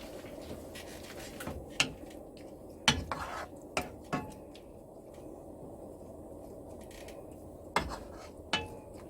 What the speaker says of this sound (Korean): 그게 조금 한참 볶아야 되거든. 계속 섞어줘요.